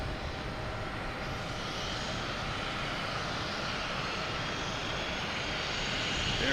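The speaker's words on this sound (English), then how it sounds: "Next taking off is American Airlines, heading to Philadelphia, flight 2632 and A321." An American Airlines A321 jet takes off at Boston Logan, its engines a steady broad roar that holds and slowly swells over several seconds, heard from a distance with no talk.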